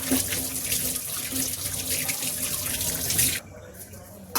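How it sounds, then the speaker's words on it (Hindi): Water pours steadily into a bowl of flour batter being mixed, a loud close rushing stream that cuts off sharply near the end, leaving a quieter stir. "थोड़ा थोड़ा सा पानी इसमें डालते रहेंगे।"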